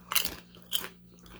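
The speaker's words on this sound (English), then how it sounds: "if it's kettle cooked, then you gotta have that really intense crunch" Kettle cooked lightly salted potato chips crunch loudly up close in two sharp bites, each a brittle crackling burst, with quieter chewing between and after.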